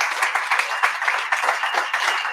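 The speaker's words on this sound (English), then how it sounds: "Give him a big round of applause" Applause from an event crowd rolls on for a couple of seconds, a moderately loud, steady patter of many hands clapping with slight surges.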